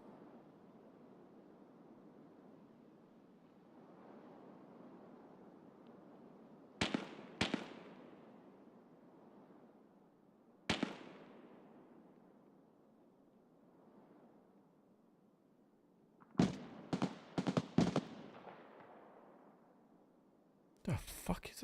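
Distant gunfire echoes across a large map in a hardcore-wipe multiplayer shooter, with isolated sharp cracks followed by a rapid cluster of shots over steady wind-like ambience and low background noise.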